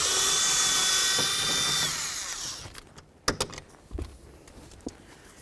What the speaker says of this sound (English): Next, we're going to remove the bolt.